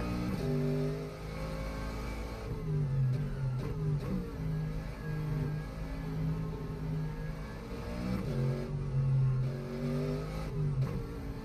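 Simulated AMG SLS GT3 race car engine in rFactor 2, driven at night at Sebring, drones steadily throughout, its pitch rising and dipping through gear changes and throttle lifts, loud and continuous with no talk.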